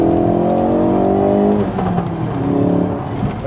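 A Ford Focus RS with its 2.3-litre EcoBoost engine accelerates hard, its loud, rising engine note climbing through the revs and then shifting to a steadier roar, close and with no talk over it.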